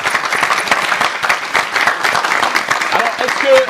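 Audience applauding a performer at a French music show, loud continuous clapping from many hands close by, dense and even throughout with slight swells.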